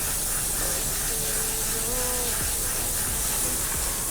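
Water sprays steadily onto the air filter of a 2020 Yamaha All New NMAX with a FERROX filter, a continuous close hiss lasting the whole moment with no break.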